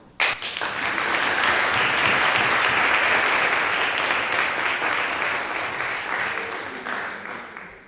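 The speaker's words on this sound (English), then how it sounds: "You can clap now." Audience applauding at the end of a talk during the IVSA congress general assembly in Denmark, a dense, sustained wash of many hands clapping that starts abruptly and slowly thins out over about eight seconds.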